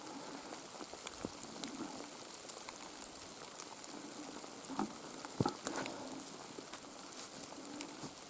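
Rain pours steadily in a forest in Komi, Russia, a dense patter of drops on surfaces all around, with occasional louder taps standing out nearby.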